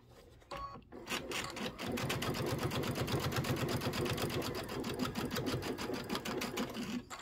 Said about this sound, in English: So I'm going to sew in a little bit and then backstitch and then sew.